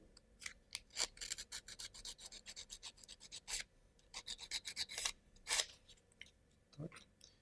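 A wooden Ugears card holder model part is smoothed with sandpaper, giving close, quick rasping strokes in uneven bursts, some strokes louder and longer than others, with brief pauses between.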